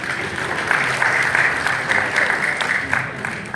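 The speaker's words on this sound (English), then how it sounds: "Let's give him a round of applause, ladies and gentlemen." Audience applause fills a temple awards ceremony during an annual Mariammen prayer event, a steady dense patter of many hands clapping at moderate distance, sustained without pause and with no voices over it.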